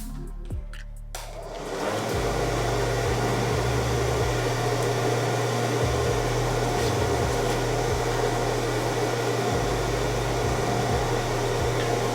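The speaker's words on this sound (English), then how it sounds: "I got my Andis dryer." An Andis hair dryer switches on and runs with a loud, steady blowing whoosh and motor hum that rises within the first two seconds and holds constant to the end, with no speech.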